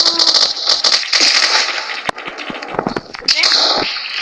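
Sharp bursts of video game gunfire crackle repeatedly, some rapid and some single, mixed with game effects and voices talking over them.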